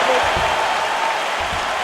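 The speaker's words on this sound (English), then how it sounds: "the crowd voicing its appreciation after that round" Crowd applause and cheering from a UFC 4 video game arena after a round between Kamaru Usman and Israel Adesanya, a steady broadband roar with faint commentary voices underneath.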